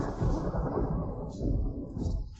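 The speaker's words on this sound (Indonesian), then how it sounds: "Beneran ada petir." Deep rolling thunder rumbles loud and broad through the whole stretch, swelling in waves without a break, in a scene where people plead with a dragon king to end a long drought with rain.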